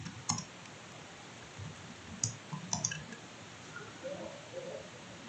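Sparse, quiet clicks of a computer keyboard in a few short bursts, close by in an otherwise hushed room with no voices.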